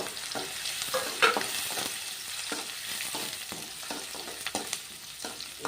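Onions dropped into hot oil of spluttering cumin and mustard seeds for a ridge gourd stir-fry, crackling and sizzling steadily with repeated scraping stirs and a sharp pop, no talking.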